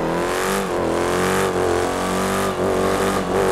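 Car engine in a GTA 5 drag race video game, a loud droning roar that climbs in pitch through repeated gear shifts, each marked by a short dip before revving up again, with no talking.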